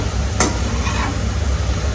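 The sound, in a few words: sautéing chopped onion and tomato in a pan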